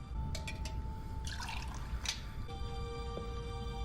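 Water poured for a drink in a royal court, a short splashing trickle of liquid filling a vessel over steady background tones, fairly faint and alone without talk.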